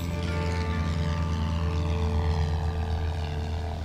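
A small propeller aircraft flies over the Pyrenees, its engine a steady, loud droning hum with a continuous tonal buzz that holds evenly from start to finish.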